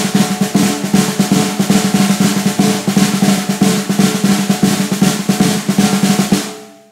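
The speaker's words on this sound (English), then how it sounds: "On the accents, I'm going to buzz the accent." A close snare drum rattles off continuous sixteenth notes, the accented strokes pressed into short buzz rolls that smear between the crisp taps.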